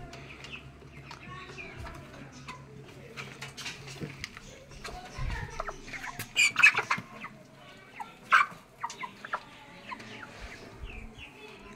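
A rooster and hens cluck and call close by, with a few louder squawks standing out over quiet farmyard background; the large rooster weighs 3 kilograms.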